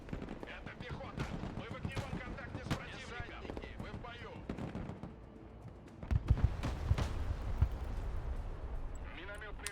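Artillery fire in the real-time strategy video game Broken Arrow, with repeated sharp blasts and gunfire bursts that grow denser and heavier toward the end, mixed with someone talking throughout.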